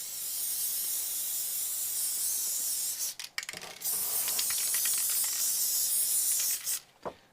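A steady hissing spray with a brief pause, then sharp rattling clicks of a mixing ball as the can is shaken, followed by more spraying.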